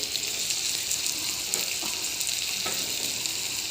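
Vegetables, including eggplant, fry in oil for a fenugreek tomato chutney, making a steady, close crackling sizzle that carries on without a break, with a few faint clinks mixed in.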